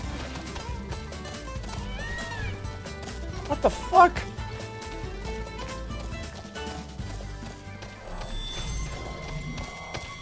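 Horses in Final Fantasy XV whinny with brief neighs and a scattered hoof clatter, mixed into a dense game soundtrack and ambience while someone talks over it.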